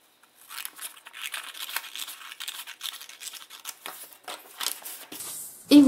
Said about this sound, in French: Donc vous allez couper votre tissu en suivant ce trait.